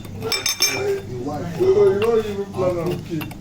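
A sugar cube is muddled with Angostura bitters in a glass for a whiskey cocktail, giving a few light clinks and grinding taps beneath continuous nearby talking.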